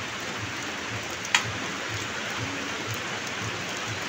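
Steady rain falling, a dense even patter on surfaces that continues throughout, with one brief sharp tap near the start and no voices.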